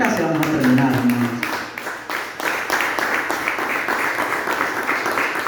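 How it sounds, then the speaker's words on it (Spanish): A church congregation claps in praise to the Lord, steady close applause throughout with a preacher's voice talking over it at the start. "Den una ofrenda de palmas al Señor"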